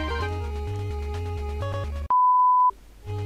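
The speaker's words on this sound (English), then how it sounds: "my phone went off" A mobile phone goes off with a single loud, sustained electronic beep that cuts sharply over game music, which resumes once the tone stops.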